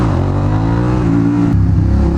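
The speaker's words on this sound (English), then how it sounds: "it's just so fun to have a bike that's just so throaty" A Suzuki SV650 motorcycle engine revs under acceleration, a steady throaty drone with rising harmonics that holds loud and close throughout with no talk.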